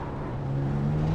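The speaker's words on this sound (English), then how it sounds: "Car on your left." Steady engine drone of a race car running alongside in a BMW M4 GT4 racing game at Okayama, a continuous close hum with a sustained low tone.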